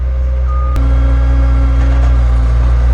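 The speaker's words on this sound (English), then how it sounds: "I would dump a load or 2 of gravel with the skid steer" Steady reversing beeps from a skid steer backing up with a load of gravel for a parking pad, sounding close over a constant low engine rumble.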